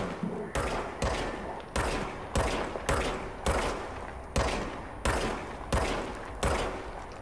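Shotgun blasts in the video game Control, about ten loud booming shots fired at a steady pace roughly every half to three-quarters of a second, each with a short decaying tail, with no talking.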